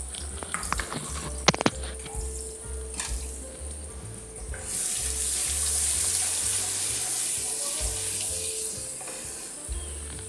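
Garlic-ginger paste sizzles in hot oil in a kadai where onions were browned, with a steady frying hiss, brief clinks of a spoon early on and the sizzle growing louder midway.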